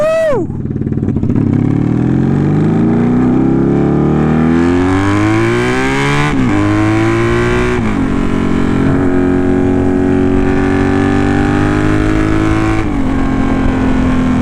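A repaired Honda Magna motorcycle engine runs steadily close by, its idle note rising and falling with several throttle blips, with music and voices faintly in the background.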